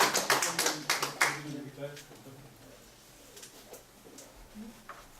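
Brief burst of applause from a small gathering at a Won Buddhist temple, a few seconds of scattered claps that quickly fade to quiet room sound and soft taps.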